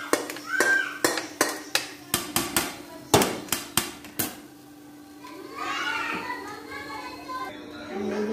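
Kadhi pakoda is served out of a cooking pot into a dish with about a dozen sharp metallic clinks of a ladle against the pot, then quieter scraping with a voice faintly in the background.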